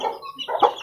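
Growing chicks clucking and peeping in a backyard coop, several short bird calls overlapping over about a second, nearby and fairly clear, with no talking.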